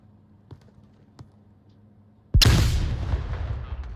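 Flashbang grenade detonating in the VR shooter Onward, a few faint taps and then one sudden loud sharp bang followed by a ringing, slowly fading rumble.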